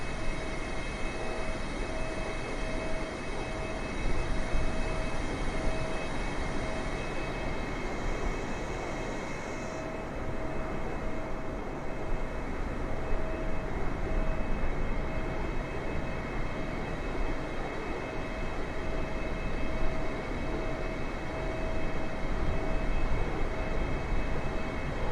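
A Boeing 747-8 landing in Microsoft Flight Simulator 2020 fills the clip with a dense, constant engine roar and rushing air, loud and unbroken throughout, with a thin steady tone on top and no voices.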